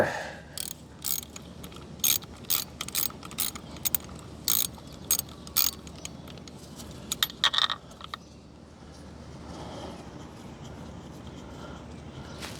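Ratchet working screws loose on a 1986 Honda VFR750F motorcycle that sat for 21 years, giving sharp clicking bursts in irregular runs through the first eight seconds, then quieter handling noise.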